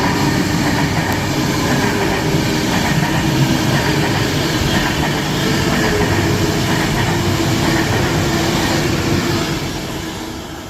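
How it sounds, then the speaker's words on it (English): A Class 390 Pendolino passing slowly through Rugby station on the West Coast Main Line, giving a loud, continuous rumble with faint wheel clatter and squeal that fades slightly at the end. "Pendolino of some sort, Class 390"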